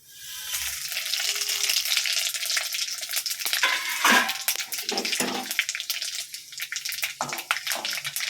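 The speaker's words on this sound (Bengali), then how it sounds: "তেলটা গরম হয়ে গেছে, এবারে আমি এই ফোড়নগুলো সব দিয়ে দেব।" Whole spices (radhuni, mustard seeds, dried red chillies and bay leaves) hit hot oil for a mixed-vegetable curry, giving a loud, steady crackling sizzle that fills the clip with sharp pops and spatters and no talk.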